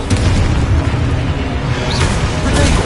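A loud, dense magical explosion blast from the Confringo spell in the game Hogwarts Legacy, a sustained booming rumble with a rising whoosh near the end.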